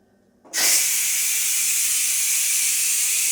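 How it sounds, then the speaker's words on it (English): A Ninja Foodi pressure cooker vents its pressure after a meatloaf has cooked, bursting suddenly into a loud, close, steady hiss of steam that continues unbroken. "So now let's release the pressure."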